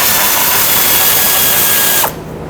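A power tool spins off a 13mm nut and bolt while replacing the fuel pump on a 2007–2014 Chevrolet Silverado 2500 HD, a loud steady whir that stops abruptly near the end.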